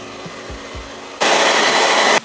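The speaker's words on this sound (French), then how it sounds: "bah tu peux utiliser un sèche-cheveux" A hair dryer blows on acrylic paint, switching on as a sudden loud, steady whoosh for about a second after a few soft knocks, then cutting off.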